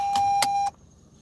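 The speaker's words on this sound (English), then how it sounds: "That's one thing I hate about this car is how much it wants to beep." A car's electronic warning chime gives a steady tone for a moment with a few soft clicks, then cuts off abruptly into quiet cabin noise.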